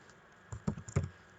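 A short burst of a few computer keyboard keystrokes, close and fairly soft, as a pip install command is typed in a command prompt.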